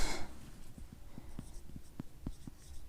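Pen or chalk writing out a chemical equation by hand: a series of light, regular tapping strokes, faint and close, with a quiet background and no talk.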